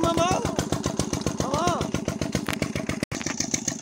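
A motorcycle engine runs with a rapid, pulsing putter, the rhythm wavering as it revs, while people talk over it close by.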